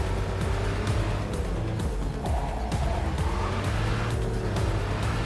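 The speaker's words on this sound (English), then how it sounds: "So this is Silverhand's Porsche. Not the fastest car in the game, but it has really, really good handling." A Porsche sports car engine roars steadily in Cyberpunk 2077, revving and shifting as tires squeal briefly, loud and continuous with no talking.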